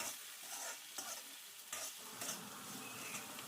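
A spoon stirs salt into a bitter gourd dish in a pan, a soft scraping stir over a faint sizzle, quiet and steady for a few seconds with no voices.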